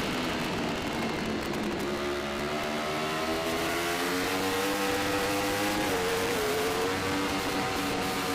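An open-class BMW superbike screams at full throttle through a road-race course, the engine note climbing and shifting in steady pitch sweeps, loud and continuous without any speech.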